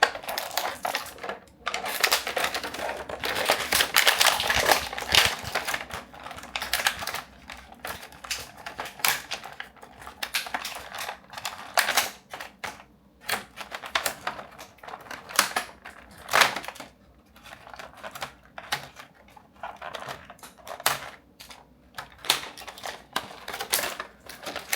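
Scissors or a cutter snip silicone rubber ties holding a Megatron Armor Skeletor action figure inside plastic toy packaging, giving close, irregular clicks, crackles and plastic rattles with no talk.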